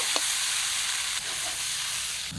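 Steady, close sizzling of goat liver pieces, coated in salt and turmeric, frying in hot oil in a kadai, a continuous crackling hiss with a few faint pops.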